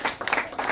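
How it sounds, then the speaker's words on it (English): Brief burst of audience applause for a comedian's wife at a live stand-up show, scattered clapping at moderate volume lasting under a second. "Come on, a round of applause for her."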